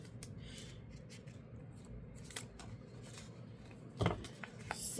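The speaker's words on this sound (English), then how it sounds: "when you are cutting your paper, you want to cut enough so that your book doesn't get like damaged from the tape" Scissors snipping through wrapping paper while a book is being gift-wrapped, a run of soft, close rustling cuts with a louder snip near the end, no talking.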